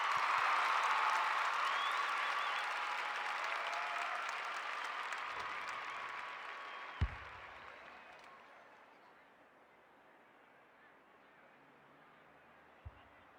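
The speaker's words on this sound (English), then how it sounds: "The crowd noise tells you all you need to know." A VFL football crowd at a Collingwood versus South Melbourne match cheering and applauding a goal, a loud sustained roar and clapping that gradually fades, with a couple of sharp knocks later.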